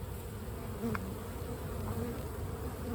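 Honey bees buzz at a backyard hive during a week of heavy activity, making a steady, dense hum that carries on without a break and stays fairly faint, with no talking.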